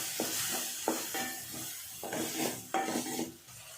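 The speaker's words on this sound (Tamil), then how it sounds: "இதெல்லாம் சேர்த்து நல்லா வதக்கி விடலாம்" Tomato, onion, chilli and turmeric sauté in a pan for an ivy gourd masala: a spatula scrapes and taps at intervals over a faint, steady sizzle, with no talking.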